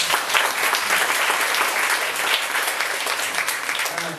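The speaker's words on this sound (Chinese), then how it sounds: "所以大家在热烈掌声" An audience at a talk event breaks into sustained applause, a dense, even clatter of many hands clapping that holds steady throughout.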